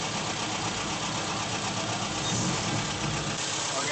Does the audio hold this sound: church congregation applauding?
no